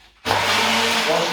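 Blender whirs into life after a brief quiet start, blending vindaloo paste with vinegar and water for a South Indian pork curry, a loud steady motor drone with a low hum holding throughout.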